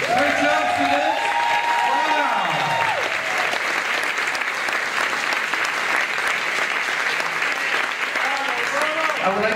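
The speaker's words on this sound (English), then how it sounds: "applaud all the students for a wonderful" Audience at an elementary school Christmas concert applauding the students, a sustained, dense round of clapping with cheering and whooping voices rising over it near the start and again at the end.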